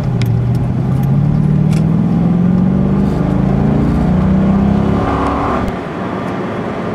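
A 2007 Chevrolet Corvette accelerates hard up to about 50 mph, its V8 rising steadily in pitch through a long loud pull before easing off near the end.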